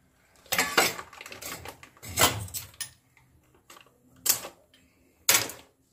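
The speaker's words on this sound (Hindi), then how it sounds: "अब मैं तो गैस ऑन कर रही हूँ, उस पर मैंने कढ़ाई रख दी है।" A metal kadhai set down on a gas stove in a home kitchen, giving several separate clanks and scrapes of metal spaced a second or so apart, close and fairly crisp against near silence.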